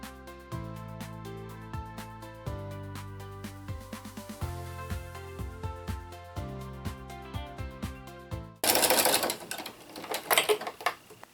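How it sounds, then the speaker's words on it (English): A sewing machine stitches a quilt in rapid rhythmic bursts with short pauses, ending in a harsher, louder rattling run. "go to the sewing machine"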